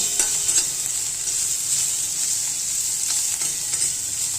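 Bitter gourd bhaji frying until crisp crackles with a steady, bright sizzle throughout, with a few light stirring clicks and scrapes close by.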